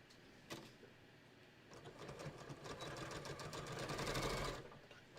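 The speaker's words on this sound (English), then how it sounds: "I'm gonna sew down the bottom, down the sides" A sewing machine stitches down the bottom and sides of a beach tote, its needle running in a steady rapid whir that builds and holds before stopping, close and alone without talk.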